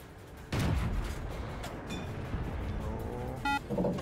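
Tank cannon fire in World of Tanks with the LT-15 light tank: a sudden loud blast with a rumbling tail, continuous battle noise, brief electronic tones, then a second burst near the end.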